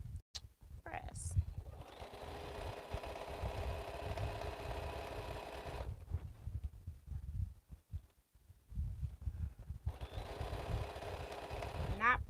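A sewing machine stitches sashing onto a quilt in two steady whirring bursts, the first running several seconds and the second resuming near the end, with a quiet pause between and soft handling noises.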